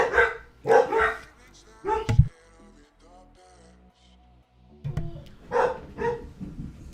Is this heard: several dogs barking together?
yes